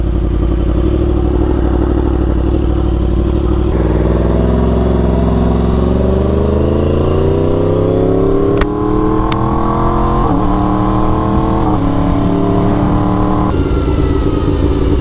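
Yamaha R1M sport motorcycle engine while riding on the road, a loud continuous drone whose pitch climbs steadily through the gears without quick-shifter, with brief clicks near the rider and wind rush throughout.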